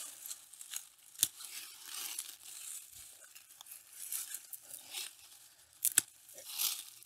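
An old hellebore stem is cut out in a spring garden, with dry crinkling and tearing of foliage and two sharp snips of pruning shears, close and quiet.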